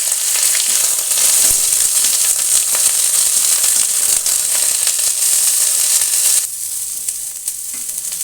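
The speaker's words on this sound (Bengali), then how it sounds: "আমি অল্প ঘি দিয়েছি একটা কড়াইতে, দিয়ে ফুলকপি সেদ্ধ করে নেওয়া" Steamed cauliflower frying in a little ghee in a wok gives a loud, steady sizzle that continues for about six seconds, then drops to a quieter crackle near the end, with no voices.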